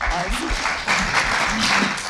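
A summit audience gives a round of applause for a business law panel after a breakout discussion, steady, dense clapping from many hands throughout, moderately loud and close.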